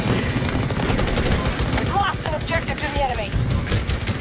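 Rapid automatic gunfire and explosions from the video game Battlefield 2042 in Breakthrough mode, heard during tank combat as a dense, continuous barrage of bursts, loud and close, running under ongoing game sounds.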